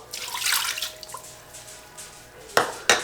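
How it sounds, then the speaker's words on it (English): Chicken broth is poured from a cup into a pan, making a soft, brief liquid splash and trickle, then two sharp clinks near the end. "So we're gonna pour the chicken broth in."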